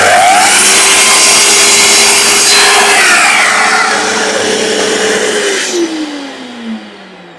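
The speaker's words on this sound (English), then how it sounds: "So over to the drop saw." A drop saw trims a sliver off a wooden dovetail box in a workshop, a loud steady whine with the blade spinning down and fading near the end.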